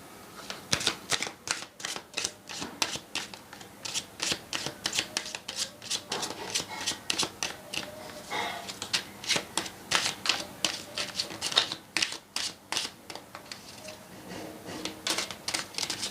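A deck of tarot cards is shuffled by hand, close up, with a long run of quick flicking riffles and soft papery slaps repeating steadily, no voice over it.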